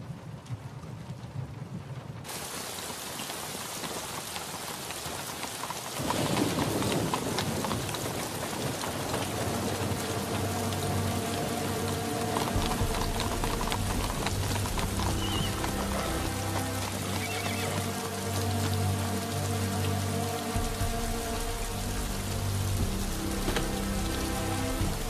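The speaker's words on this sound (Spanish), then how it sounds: "¿Cuándo crees que terminará esta lluvia?" Rain falls steadily and heavily on a surface with a dense patter throughout, joined after a few seconds by low rumbling and a musical backdrop.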